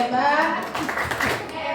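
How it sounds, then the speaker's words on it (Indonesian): Brief round of clapping from a classroom audience at an Indonesian high school, following a woman's speech, short and moderately loud, with voices trailing under it. "Tepuk tangan dulu buat Pak Andika."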